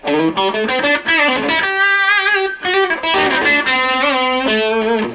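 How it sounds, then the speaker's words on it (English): Squier Sonic Mustang electric guitar on the bridge pickup with heavy distortion, bright and buzzy, playing sustained notes and quick runs, loud and continuous with no voices. "This is bridge position with distortion."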